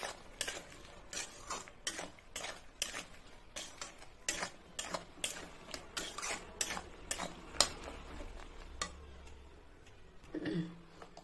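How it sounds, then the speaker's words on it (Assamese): A spoon stirs salt and spices into jujube pickle, scraping and clinking in a quick, steady, close rhythm against the bowl for several seconds, alone. "এতিয়া মই ভালকৈ লৰাই থাকিম"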